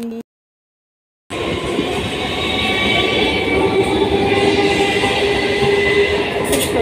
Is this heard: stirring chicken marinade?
no